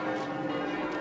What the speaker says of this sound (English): And when it does, it will be with 3 brand new bells.